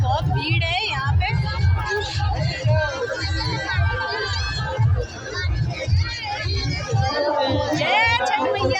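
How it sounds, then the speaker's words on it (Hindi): A dense crowd gathered at a Chhath festival, with steady hubbub and overlapping voices close around, and a regular low thumping pulse running beneath the chatter throughout. "भीड़ है यहाँ पे"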